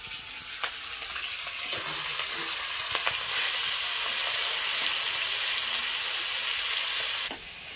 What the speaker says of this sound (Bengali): এবার বাকি মাছগুলো আমি সব ভেজে নেব।